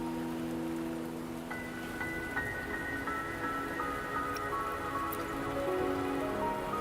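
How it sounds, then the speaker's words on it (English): Steady rain patters and hisses throughout the game world of Wuthering Waves, laid over soft sustained musical tones at a moderate, even level. "Don't worry, the rain won't last much longer."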